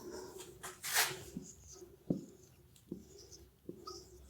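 Handwriting on paper while solving a math exercise, with a few short scratchy pen strokes and taps separated by quiet gaps, close and faint.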